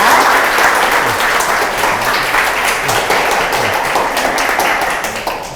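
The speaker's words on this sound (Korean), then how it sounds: "큰 박수 부탁드립니다." An audience at a Friday public science lecture in Daegu claps loudly and continuously to welcome a Kyungpook National University physics professor, a thick, even roar of hands that eases slightly at the end.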